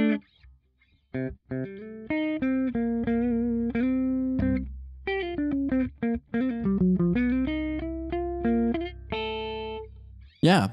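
An electric guitar through the Berry Amp amp-simulator plugin with gain maxed out plays loud, saturated riffs with choppy palm-muted bursts, held distorted notes and short silent gaps.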